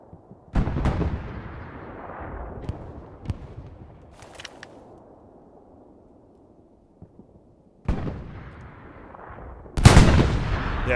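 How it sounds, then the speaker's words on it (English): Enemy gunshots in the World War II shooter Hell Let Loose: a few sharp, booming reports spaced seconds apart, each trailing off in a long echoing rumble, with one louder shot near the end. "Oh, I hear him shoot."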